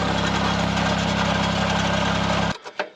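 Engine of a Cat 302.5 mini excavator under repair, with exhaust trouble, running in a loud steady drone up close, then cutting off abruptly near the end, leaving a few faint knocks and rattles.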